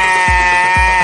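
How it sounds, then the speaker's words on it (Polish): A sheep bleats loudly and close by in two wavering, nasal calls, one after the other, with no other sound around them. "70 tysięcy owiec."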